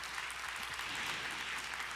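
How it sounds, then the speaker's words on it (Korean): A church congregation at a children's Sunday service claps for a young girl who was just blessed, steady dense applause filling the room without pause. "큰 박수로 축복하겠습니다"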